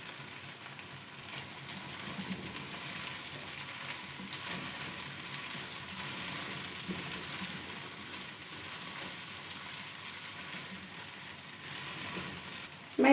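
Tomatoes sizzle and fry in a pan with garlic and ginger, a soft continuous crackle and hiss at low level, ending in a brief louder clatter.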